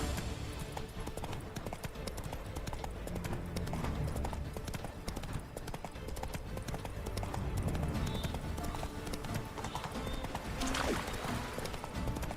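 Horse hooves galloping in The Witcher 3: Wild Hunt, a rapid, continuous clip-clop of a running horse, steady and fairly loud throughout, with a brief snort or whinny near the end.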